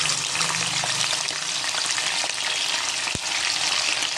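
Prawns deep-frying in hot oil for a prawn pickle, a dense, steady sizzle that crackles continuously at close range, with one brief low thump near the end and no voices.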